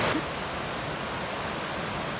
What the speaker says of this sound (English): I believe this is the Housatonic River.